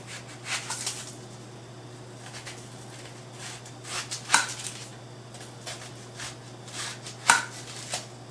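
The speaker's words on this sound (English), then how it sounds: "I'm going to cut some slices of onion to put in there." An onion being cut into slices with a knife, a few scattered soft cuts with two sharper knocks on the board, quiet and close with a low steady hum behind.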